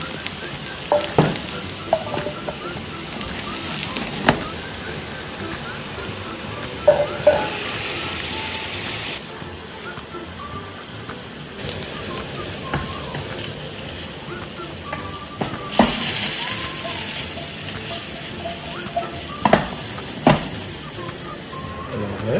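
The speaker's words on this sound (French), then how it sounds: "On fait revenir nos champignons, ici champignons taris" Mushrooms sauté in butter in a hot pan alongside pearl onions for a beef bourguignon, giving a steady close sizzle with occasional scraping and stirring clatter throughout.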